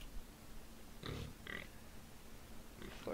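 Pigs in the RuneScape quest game grunt and oink in a few short, quiet bursts over a low steady hum.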